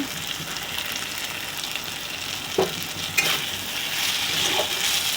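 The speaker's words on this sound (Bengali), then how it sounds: "থোড়টা দিয়ে নেড়ে চেড়ে দিচ্ছি।" Salted, drained banana stem tossed into a hot pan and stirred, a steady close frying hiss with a couple of sharp utensil knocks and a slightly louder sizzle toward the end.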